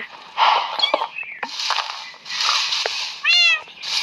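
Cat-like animal meowing in the Minecraft video game, several distinct meows with rising and falling pitch, fairly loud and close, spaced across the clip over soft game background noise.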